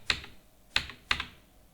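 Three sharp, close clicks of computer keyboard keys, spaced unevenly across a short quiet moment, with no talking.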